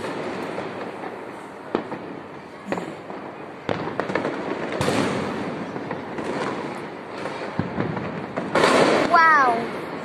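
New Year's Eve fireworks burst outdoors in a run of sharp, loud explosions at irregular intervals, crackling and whistling toward the end, while excited voices react in the background.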